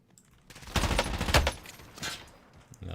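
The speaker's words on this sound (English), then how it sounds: "Who is shooting?" Burst of gunfire in a Call of Duty style first-person shooter, a loud cluster of rapid shots up close followed by quieter scattered shots, with no talk.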